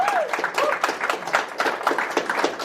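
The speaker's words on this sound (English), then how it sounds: "Give him a round of applause." Audience applause in a studio room during a political talk show, steady dense clapping filling the short stretch with a faint voice rising over it.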